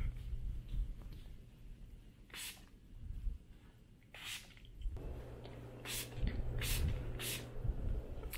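Air freshener is sprayed around a home office in several short, close hissing bursts with quiet pauses between them and no talk.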